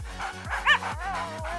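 A dog gives a single bright yip near the middle, quick and close, over a steady music bed.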